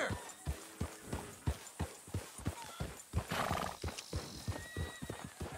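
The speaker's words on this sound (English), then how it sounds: "That's a healthy horse right there." Horse in Red Dead Redemption 2 trotting with crisp, evenly spaced hoofbeats close by, plus a loud neigh midway through, alone without talk.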